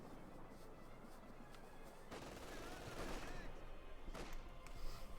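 A Katyusha rocket barrage in the strategy game Company of Heroes 2, heard as a faint, dense wash of rumbling detonations that builds and swells toward the end, with distant crackling bursts throughout.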